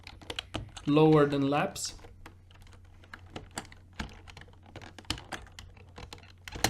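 Fast, uneven keyboard typing with clustered key taps and a few louder keystrokes, close and clear, while a person briefly speaks near the start and then types alone.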